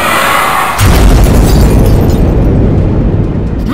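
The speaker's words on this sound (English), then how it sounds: "Seconds later, the Dragonzord lets out one last cry and then explodes." A giant Dragonzord robot explodes in an audio drama, a loud, deep boom that bursts in after a quieter opening and rolls on as a sustained, rumbling blast with no voices over it.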